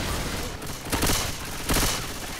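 Gunfire in the zombie shooter Left 4 Dead 2, heard as two short, loud bursts of shots at close range that rise out of steady game background noise.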